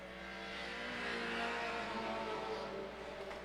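Stock cars race around the Agassiz Speedway oval, a dense, steady engine roar that swells slightly and fades as the pack works through the turns, heard at a distance with no talk.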